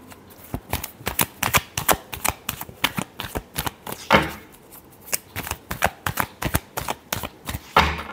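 Tarot cards shuffled by hand close up in rapid riffling bursts, a quick rhythmic run of crisp flutters and snaps with short pauses between, no talking.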